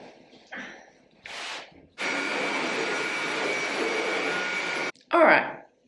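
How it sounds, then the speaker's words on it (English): A floor vacuum cleaner runs steadily for about three seconds at close range, a loud even whoosh between brief handling noises and short bursts of breath or movement. "We're going to have to clear some space and vacuum the floor."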